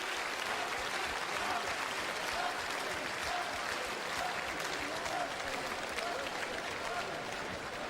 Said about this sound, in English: And the crowd goes wild, indeed they do.